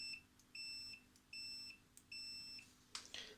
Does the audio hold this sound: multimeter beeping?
yes